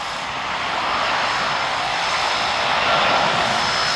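A KLM airliner at Glasgow Airport makes a loud, steady engine roar, a broad sustained rush that swells slightly as the plane passes, with no voices.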